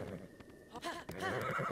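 A horse in Breath of the Wild gives a loud, quavering whinny close by, with hoof clatter and a busy game soundscape around it.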